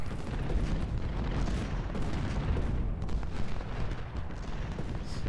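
Cannon artillery fire rumbles through a Civil War battle in Ultimate General: Civil War, a dense continuous roll of distant booms and gunfire with no clear single shots, steady and moderately faint throughout.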